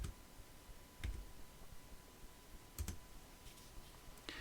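A few quiet keystrokes on a computer keyboard as a command is typed, sparse soft clicks spread over a low background hum.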